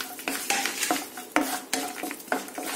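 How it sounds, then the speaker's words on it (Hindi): Cashews are stirred into masala in a pan for paneer lababdar, a spoon knocking and scraping against the metal in a quick irregular series of clacks over a soft sizzle. "मैंने यहाँ पर काजू लिए हैं और इसको ऐड कर देंगे। और अच्छे से मिला लेंगे।"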